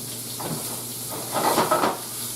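A steak coated in coffee and pepper sizzles in a hot pan, a steady broadband hiss that swells louder for a moment partway through.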